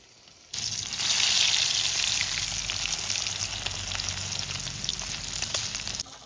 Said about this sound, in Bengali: লেজাটা ভাজবো, কড়াইতে তেল দিয়ে দিলাম।